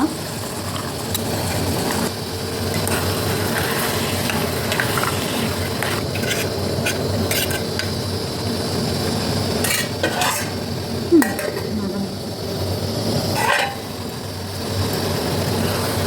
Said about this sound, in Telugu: ఇందులోకి ఇప్పుడు మనం నానబెట్టుకున్న పచ్చిశనగపప్పు వేస్తుంది అమ్మ